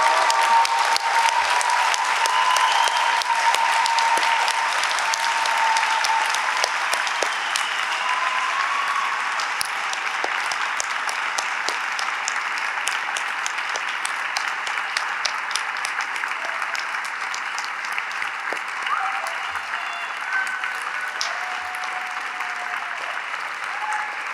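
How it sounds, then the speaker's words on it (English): A graduation ceremony audience at UNYP gives a long, even round of applause for honored students standing in golden tassels, dense steady clapping that holds for over twenty seconds and tapers slightly toward the end. "They deserve a round of applause."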